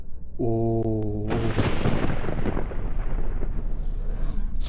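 A deep rolling rumble of thunder in a video game builds after a brief tonal chime, then booms loudly and keeps grumbling as a long, heavy roar.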